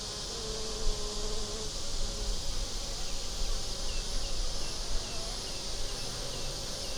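A dense, steady drone of honeybees swarms around an open hive as it is inspected, a continuous close-up buzz running evenly with no pauses throughout.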